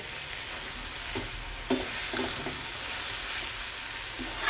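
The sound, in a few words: stir-frying matki usal for khichdi on high flame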